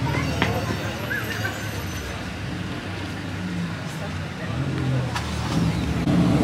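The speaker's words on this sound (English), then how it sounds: "We've got the Monza driving past the 177 now." A Ferrari Monza drives past at a car-week gathering, its engine a steady loud rumble that swells toward the end amid crowd noise and background chatter.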